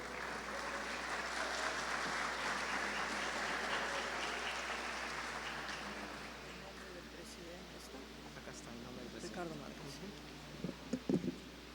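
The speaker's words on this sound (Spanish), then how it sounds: "La recibimos con fuertes aplausos" Audience applause at an industrial forum in Chiclayo, a dense sustained clapping that fills the room, gradually thinning toward the end as a few louder isolated claps stand out.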